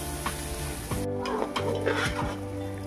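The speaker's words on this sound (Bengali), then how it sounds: "দেখুন, চালটা কিন্তু প্রায় ভাজা হয়ে আসছে আমার।" Rice nearly done frying in a pan for basanti pulao, quiet sizzling under repeated scrapes and stirs of a spoon against the pan, a faint rooster-like call in the background.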